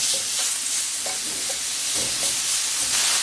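Enoki mushrooms sear in hot olive oil in a pan, giving a steady close sizzle broken by a few soft clinks and small stirring sounds.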